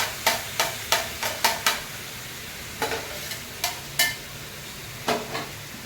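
Tomatoes frying with spices in a pan, stirred with a spoon that scrapes in a quick series of sharp clinks and swishes over a faint, steady sizzle.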